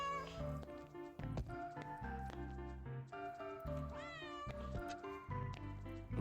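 A cat in the Returns Outlet Simulator video game meows repeatedly over rhythmic background music, with several drawn-out, wavering calls at a moderate level.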